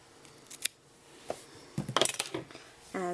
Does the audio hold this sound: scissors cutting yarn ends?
yes